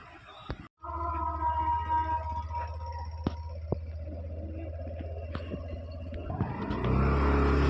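A motor vehicle on the road, apparently a kick-start two-wheeler, gives a steady low engine rumble that holds throughout and swells louder near the end, with faint background sounds.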